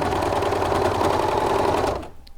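Sewing machine running steadily as it stitches the back seam of a butterfly applique cushion, a loud continuous whirring hum up close that stops abruptly near the end.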